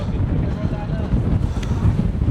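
Strong wind buffets the microphone at a seaside lookout point in Majorca, a constant loud low roar and rumble that fills the whole moment without letup.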